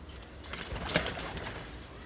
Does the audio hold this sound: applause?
no